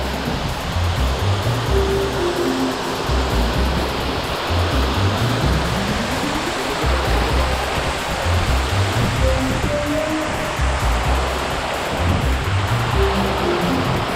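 A hidden waterfall pours down in a broad, steady roar of rushing water, loud and close, with faint musical tones drifting over the constant wash.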